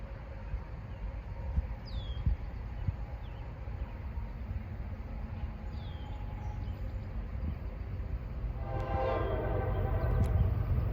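An eastbound CSX freight train rumbles past at a distance, with faint squeaks and a horn blast rising near the end over the growing rail noise.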